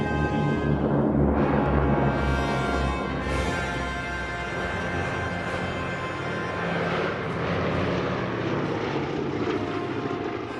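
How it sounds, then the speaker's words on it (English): Heavy piston-engine drone of a WWII heavy bomber such as a B-24 Liberator or B-17 Flying Fortress, a broad, steady roar with layered propeller hum sustained throughout, fairly loud with no voices. "There were two America's frontline heavy bombers of the war, the B-24 Liberator and the B-17 Flying Fortress."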